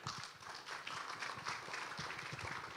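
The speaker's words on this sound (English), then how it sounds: "please put our hands together and give a round of applause to Frank" Audience applause for a speaker at an international conference on social impact assessment, a steady, even patter of many hands clapping, soft and distant, with no voices over it.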